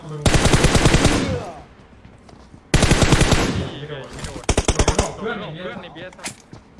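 Automatic gunfire in the mobile shooter PUBG Mobile: three loud rapid bursts of rifle fire, separated by short pauses, with echoing tails and scattered shots trailing after the last burst.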